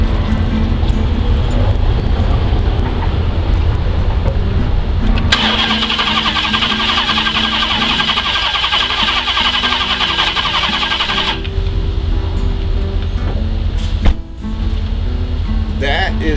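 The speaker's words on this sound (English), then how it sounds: "If it continues to spin with all the plugs in and doesn't hydrolock, then we can go ahead and put the coils back on" A car engine with its spark plugs in cranks over on the starter, a loud rhythmic whirring churn lasting several seconds between stretches of idle background noise, with people talking nearby.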